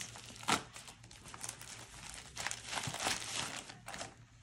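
Crinkling plastic packaging handled while unpacking craft supplies, close and fairly quiet, with irregular rustles and a few sharper crackles scattered throughout.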